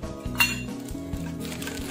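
A measuring spoon clinks against a bowl while GMS powder goes in for homemade ice cream, with short close metallic taps and a ringing scrape, no talking.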